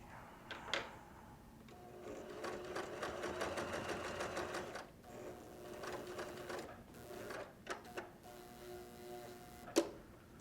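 A sewing machine stitching a potato bag runs in several bursts of rapid needle clatter, each starting and stopping, with short back-stitching runs and clicks and knocks between them, close up.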